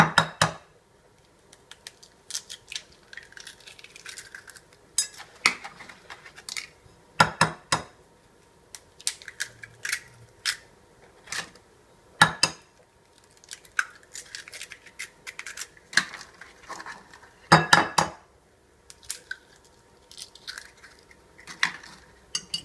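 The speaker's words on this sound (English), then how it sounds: "So proceed to beat the eggs." Eggs beaten in a bowl, irregular bursts of quick clinking and tapping strokes against the bowl separated by quiet pauses, close and fairly crisp, no talk.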